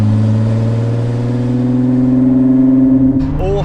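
A Ford GT's engine holds a steady drone at light cruise, then swells into a louder rising rev as the throttle is rolled on near the end, heard close and continuous from inside the car.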